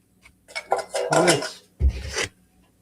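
A plastic lid of a multi-blade kitchen appliance is handled, giving a few light clattering knocks and scrapes followed by a louder thump and rattle, close and alone with no talk.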